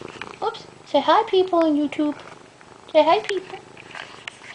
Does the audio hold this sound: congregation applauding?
no